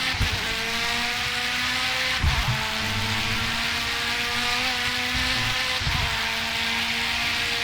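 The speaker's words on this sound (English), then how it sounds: "Listen to this car. It sounds really cool." Steady LMP2 race car engine drone in a racing video game at Zolder, with a continuous high whine, holding a nearly constant pitch with a couple of brief bumps.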